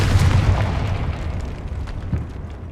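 Confringo blasting spell exploding in the video game Hogwarts Legacy, a loud booming blast that rolls into a decaying rumble, with a smaller thud near the end.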